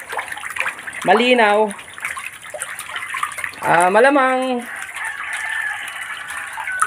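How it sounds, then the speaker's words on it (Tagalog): Fresh water pours steadily into a backyard concrete catfish pond, a continuous splashing gush running throughout while someone talks over it. "Ito, lalagyan ko ng tubig, bagong tubig"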